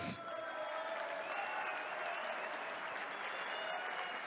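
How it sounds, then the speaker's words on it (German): Arena crowd at an MMA event in Munich applauding a fighter entering the cage, steady sustained clapping filling the hall after a brief loud burst at the start. "Und Sie helfen mit einem Applaus."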